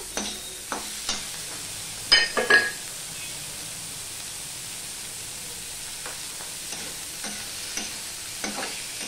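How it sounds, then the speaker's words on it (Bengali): Potatoes frying in a pan with salt, a low steady sizzle broken by intermittent scraping stirs and a cluster of louder utensil knocks partway through. "এই আলুটার সাথে আমি ভেজে নেব ভালো করে।"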